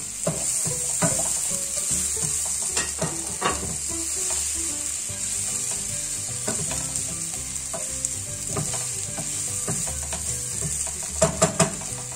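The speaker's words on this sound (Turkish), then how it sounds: "içine biberlerimizi koyuyoruz. Ve biberlerimizin de kızarmasını bekliyoruz arkadaşlar." Chopped Charleston and kapya peppers fry in a pan, a loud continuous sizzle with occasional clicks and scrapes of stirring, close by and with no talking.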